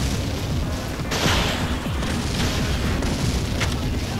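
A tank cannon fires in the Breakdown video game, a loud booming blast that keeps rumbling with heavy explosive noise for the whole stretch, and no voices are heard over it.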